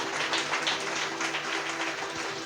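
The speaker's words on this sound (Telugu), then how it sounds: "గట్టిగా చప్పట్లు కొట్టు." An audience at a church service claps continuously in a dense, fairly quiet patter, with a steady hum from the sound system underneath.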